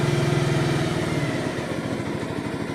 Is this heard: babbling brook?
no